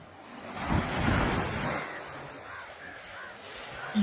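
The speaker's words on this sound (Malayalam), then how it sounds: "കടൽ വന്ന് മൊത്തം കൊണ്ടുപോകും." Sea waves washing onto the beach at Tanur during a sardine catch, a broad surf rush that surges and recedes over a couple of seconds, with wind hiss and faint talk in the background.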